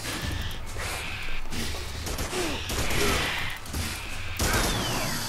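Net trap gun shots in the dinosaur shooter Primal Carnage, a series of loud, sharp blasts and mechanical thumps repeating every second or so amid constant gameplay noise.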